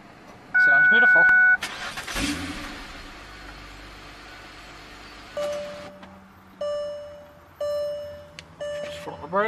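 A 2013 car engine with 79,000 miles cranks and catches, then settles to idle, followed by a few electronic beeps and chimes while a voice talks.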